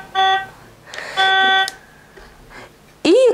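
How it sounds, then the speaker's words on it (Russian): Two short, bright toy car-horn beeps from a button on a Cars-themed children's sound book, separated by a pause, then a voice briefly speaks at the end. "Кнопка звукового сигнала автомобиля."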